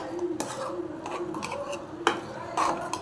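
A spoon scrapes and clinks through dal with gongura leaves in a pot. Several separate stirring strokes are close and moderately loud, mixed with soft rubbing and a few sharper knocks against the metal.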